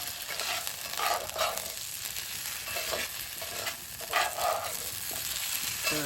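Food for brunch, including local eggs, fries and sizzles in a pan, with occasional scraping bursts of stirring over a steady crackle and no voices.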